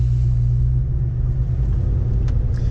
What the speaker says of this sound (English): that 302 just fires right up, the 5-liter high output V8. It sounds great doing it